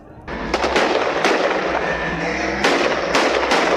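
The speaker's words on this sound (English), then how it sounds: "Above their heads, rockets fired toward Israel are intercepted." Rocket interceptions exploding overhead in Gaza, a dense crackle of sharp bangs and rumbling bursts, with several louder cracks standing out against a continuous roar, no talk.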